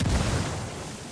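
A frag grenade explodes in the video game Ghost Recon Wildlands, one loud, close boom with a heavy low-end thump that fades into a rumbling tail, with no talk.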